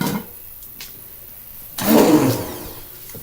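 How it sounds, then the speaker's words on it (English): A cheap stick blender from Walmart, used for mixing liquid soap, whirs loudly in one close burst of a second or so, after a long quiet stretch. "And the stick blender I'm using is just a cheapy stick blender from Walmart."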